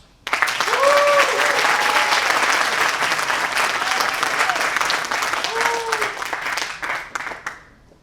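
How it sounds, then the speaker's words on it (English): Sustained, loud applause from an audience at a startup accelerator demo day in Tel Aviv, dense steady clapping swelling and then tapering off, with brief cheers or voices rising over it. "Support them with warm applause."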